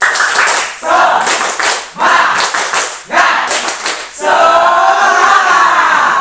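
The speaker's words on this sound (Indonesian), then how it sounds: "Oke, kalau begitu tepuk semangat dulu." A school class performs a tepuk semangat clapping routine, loud rhythmic bursts of clapping in repeated phrases separated by brief pauses, ending in chanted group voices.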